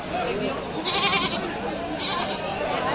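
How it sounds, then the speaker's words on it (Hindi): Goats bleat amid a busy livestock market in Hardoi, Uttar Pradesh, with a dense crowd murmur and voices of people chattering throughout, the animal calls rising a few times over the steady din. "तो गाइस, हम लोग हरदोई की बकरा मंडी में आ गए हैं"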